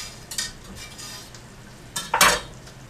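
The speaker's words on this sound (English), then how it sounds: "So we're going to stir that all in." A spoon stirs tomato sauce and paste for spaghetti in a pot, making a few close scraping strokes with a louder clatter near the end over a quiet background.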